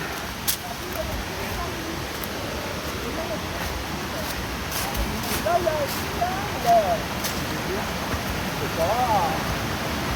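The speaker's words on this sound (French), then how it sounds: "On va aller proche de la cascade." A waterfall along the five senses trail at Mosset in the Pyrénées-Orientales, a steady broadband rush of falling water heard at moderate distance, continuous and even, with faint birdsong rising over it.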